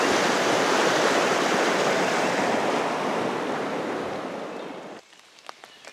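Loud, continuous rush of floodwater flowing over a bridge, roaring for several seconds, then cutting off abruptly to near quiet with a few faint knocks.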